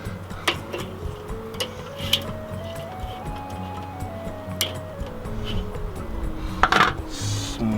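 Pork chops being flipped and glazed on a Weber kettle grill, with tongs making light metallic clicks and ticks against the grate at an irregular pace over a low steady hum, picking up a little near the end.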